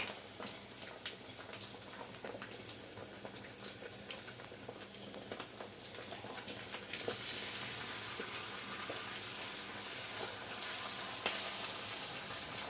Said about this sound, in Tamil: முட்டையை இந்த மாதிரி நல்லா கிளறி விட்டுக்கலாம்.